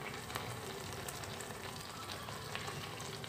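Sweet ghee appam deep-frying in hot oil, giving a steady, dense sizzle with fine crackling bubbles throughout, close and even, with no voices.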